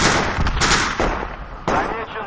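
In the military shooter game Project Reality, a breacher's charge goes off amid combat, with sharp, loud blasts and bursts of gunfire overlapping radio-style voices.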